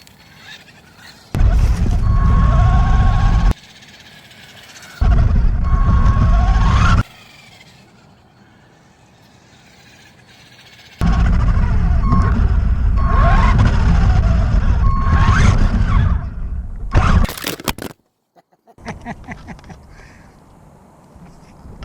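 A small 1:16 scale RC truck drives around, its electric motor whining loud and close in three separate bursts with quiet gaps between them, followed by a few clattering bumps.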